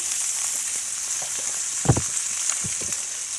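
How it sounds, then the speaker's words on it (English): Cabbage sautéing in olive oil in a pot gives a steady high sizzle, broken by a few soft scraping stirs and one louder knock near the middle, with no voices. "I'm going to break these up and saute them"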